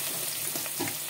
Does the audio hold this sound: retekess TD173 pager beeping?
no